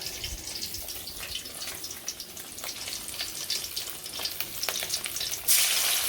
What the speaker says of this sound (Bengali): কড়াইতে আগে আমি ছোটো মাছ দিয়ে দিচ্ছি